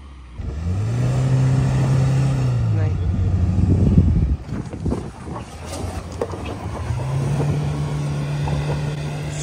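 A Mahindra Scorpio N SUV crawls over an off-road obstacle in low range, its engine droning steadily and rising and falling in pitch with wind buffeting, while people talk throughout.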